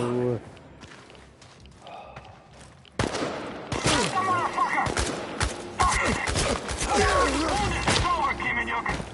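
Rapid gunfire bursts and thumps in the video game ChernobyLite, loud and close, starting abruptly midway with overlapping impacts and shouted voices among the shots.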